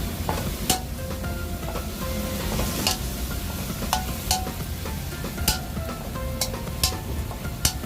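Frog and holy basil stir-fry for spicy Thai fried frog, crackling in a hot pan. A steady sizzle runs throughout, broken by sharp clanks of a utensil scraping and tossing the pan at irregular intervals, with no talk.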